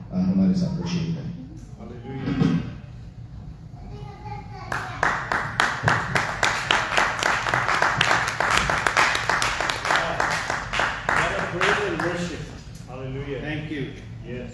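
A church congregation at a New Covenant Church Sunday service breaks into steady, rhythmic applause that builds and holds for several seconds. Someone speaks before it and again as the clapping fades.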